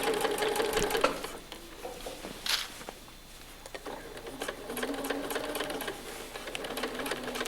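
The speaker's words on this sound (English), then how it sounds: "I'll just go right along. And I sew right down." Sewing machine stitching a pillowcase with a 1/4 inch presser foot, a steady whirring run with brief pauses and bursts, close and moderately loud throughout.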